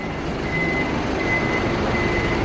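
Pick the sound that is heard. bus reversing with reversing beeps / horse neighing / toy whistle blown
bus reversing with reversing beeps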